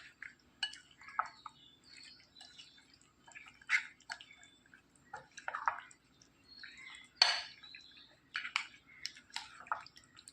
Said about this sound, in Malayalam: ചേർത്ത് കൊടുത്തിട്ട് നന്നായിട്ട് എല്ലാം കൂടെ ഒന്ന് ഇളക്കി യോജിപ്പിക്കുക